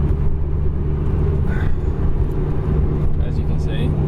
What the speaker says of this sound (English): this is the first real drive of the Tomei on the Evo